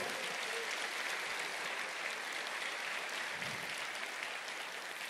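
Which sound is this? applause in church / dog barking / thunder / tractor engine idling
applause in church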